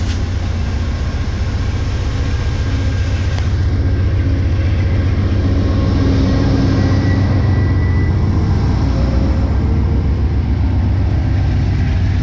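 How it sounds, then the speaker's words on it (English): Southbound Amtrak Downeaster train pulling out of Old Orchard Beach station in Maine, a loud, steady low diesel engine rumble that holds for the whole stretch with no talking. "Now the southbound train is about to take off."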